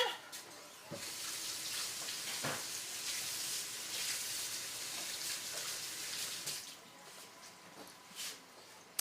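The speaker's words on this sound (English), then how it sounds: "my knife is dirty, so I'm going to run it through hot water again" A dirty knife, smeared with marshmallow from cutting cake, rinsed under hot running tap water: a steady, soft hiss of flowing water with a few faint clicks and knocks, and no talk.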